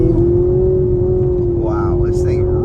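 A 2024 Nissan Altima SR VC-Turbo pulls away hard from a standstill, its engine holding a loud, steady hum from inside the cabin, with a brief voice-like sound near the end.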